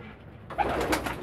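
A single short, close coo from pigeons kept in a loft, clear against a quiet background.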